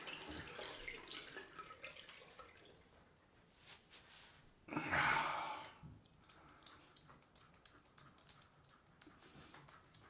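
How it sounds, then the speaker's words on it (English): Water runs from a bathroom tap during a straight-razor shave, with a short louder gush of a second or so amid quiet splashes and handling noises. "Let's get some water."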